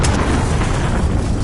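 A cruise missile explosion in the video game Call of Duty: Modern Warfare gives a loud, sustained low rumbling roar that fills the whole moment without a break.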